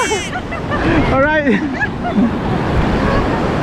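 Surf rolls in at the sandbar in Fingal Bay, a loud continuous roar with wind buffeting the microphone, while people talk nearby.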